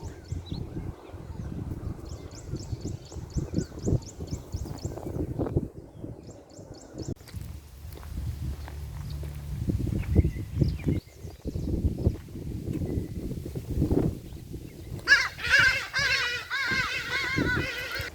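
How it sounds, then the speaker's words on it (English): Several birds chirp and trill outdoors at a distance, with rustling and footsteps nearby, and a brighter burst of calls near the end. "There are definitely a lot of birds here. I can hear them, different sounds"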